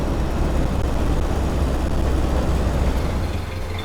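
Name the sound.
1929 Ford Model A engine idling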